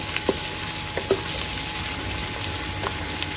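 Onions, two medium ones, frying in a pan for Afghani pulao, a steady low sizzle with a few soft clinks and stirring bumps, close and moderately quiet, with no talking.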